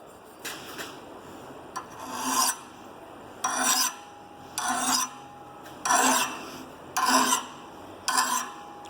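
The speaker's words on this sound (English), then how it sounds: "Clamp her in the vise. We will grab good file." A hand file rasps across a blacksmith's workpiece clamped in a vise in about seven loud, evenly spaced strokes with short pauses between them.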